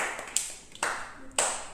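A few sharp clicks from a stapler (pin machine) being pressed in a classroom during a children's hide-and-seek activity, three distinct snaps spaced apart, close and fairly crisp.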